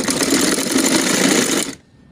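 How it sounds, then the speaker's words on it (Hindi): A sewing machine stitches along a dupatta border, running in one loud continuous mechanical whir with a rapid needle rhythm, close by, then stopping abruptly. "और इस तरह से इस पर रख के सिलाई लगाना स्टार्ट करेंगे"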